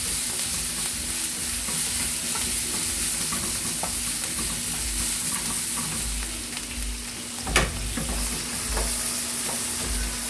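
Steak sizzling steadily in a hot pan alongside mushrooms and onion, a continuous loud fry with one sharp clink partway through, no talking.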